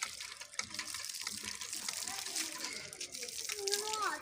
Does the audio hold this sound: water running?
yes